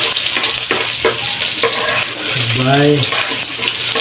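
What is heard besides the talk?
sautéing garlic in a little oil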